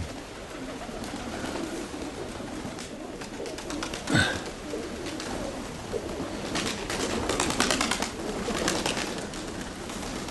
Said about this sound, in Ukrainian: Ну, добре, голуби пішли.